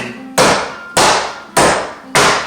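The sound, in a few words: hammer striking through a cover onto granite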